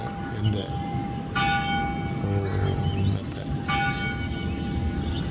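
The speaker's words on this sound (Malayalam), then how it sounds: "ആ ദേവാലയത്തിൽ നിന്നുള്ള മണിനാഥം കേട്ടതുകൊണ്ട് അങ്ങോട്ടത്തേക്ക് എൻ്റെ ക്യാമറ സൂം ചെയ്തു" A church bell rings out in a valley, its clear tone sounding in several strokes at a moderate distance over steady outdoor background noise.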